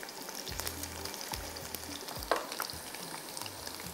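Food frying in a pan for sajji rice, with a steady crackling sizzle and occasional stirring knocks and scrapes at close range, no voices.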